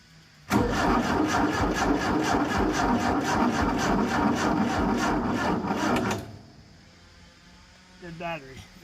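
A Ford Taunus V4 engine on a 1970s Layton roller compactor cranks and catches, running loud and steady with a rhythmic pulsing for about six seconds before cutting off, followed by a faint brief sound.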